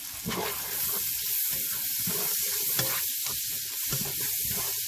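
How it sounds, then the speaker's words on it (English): Italian sausage with peppers, onions and oregano stirred in a hot pan, giving a continuous loud sizzle with soft scraping and shuffling underneath, close up and with no voices. "Okay, let me give that a stir"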